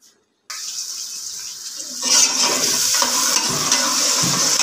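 Onions hit hot oil in a pot with garam masala, a bright hiss that swells louder after a couple of seconds into a steady close sizzle with faint stirring knocks, no voices.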